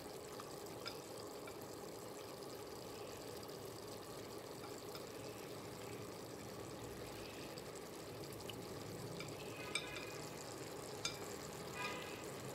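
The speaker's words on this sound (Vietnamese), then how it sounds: "cho trứng cút chiên vào luôn" Fried quail eggs go into a pot of braising caramelized pork as it is stirred, giving a steady soft bubbling simmer with occasional light clinks, close and low in level.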